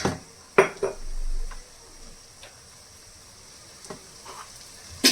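Oil heats in a frying pan with a faint sizzle, broken by a few sharp clanks and scrapes of utensils against the pan, close by and with no talking.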